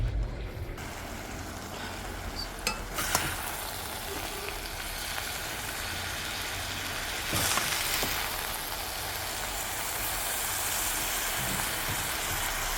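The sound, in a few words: frying eddo leaf callaloo in a pot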